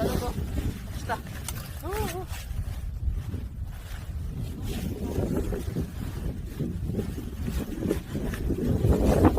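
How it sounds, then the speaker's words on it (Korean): Steady wind blows across a harvested cabbage field in the countryside, a moderate low rumble with brief gusts, and a person speaks over it near the start. "오늘은 상당히 바람 기운이 참 칩니다"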